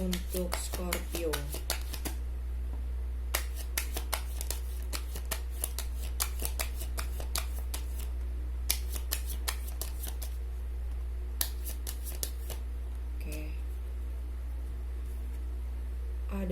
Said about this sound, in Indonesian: Saya tarik 4 kartu ya